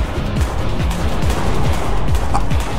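Rapid bursts of automatic gunfire from a childhood video game mission ring out in steady repeated volleys, loud and continuous with a busy mix of game sounds.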